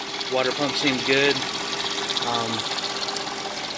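A Mercedes M112 engine in an ML430 idles with a steady mechanical rumble beneath a man's close speech; a suspected timing chain fault is the concern.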